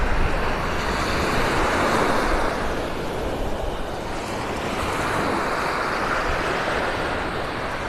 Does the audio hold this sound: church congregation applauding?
no